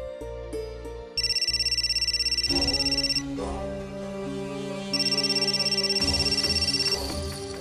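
A phone ringtone plays in two loud pulsing bursts with a short gap between, over a soft musical background.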